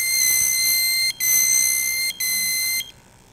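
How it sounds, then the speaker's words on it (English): A shipboard gas detector sounds its low-oxygen alarm during calibration, giving a loud, steady electronic beep that breaks twice briefly before stopping. "And of course it's flashing, making a really annoying beeping sound."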